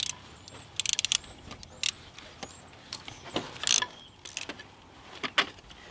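Ratchet tightening an E10 bolt on the valve cover of a Mercedes C230, close intermittent metallic clicks and short ratcheting bursts with small clanks, no talking.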